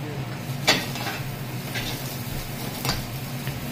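Sliced onion and curry leaves fry in hot oil in a restaurant kitchen, giving a steady low sizzle with a few sharp clicks and scrapes of a utensil against the pan.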